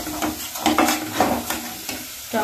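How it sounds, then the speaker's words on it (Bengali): Whisked sour yogurt goes into hot sizzling masala for a vegetarian cauliflower roast, with a steady loud sizzle and several sharp scraping and splattering bursts spread through the stretch, no voices. "এখানে যে আমি ফেটে রাখা দই, টক দইটা ঢেলে দেব"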